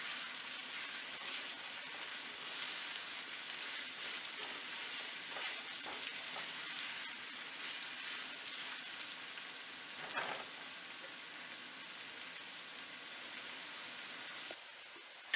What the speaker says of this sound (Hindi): आग को मीडियम से थोड़ा सा तेज कर लें और प्याज को गोल्डन ब्राउन करेंगे।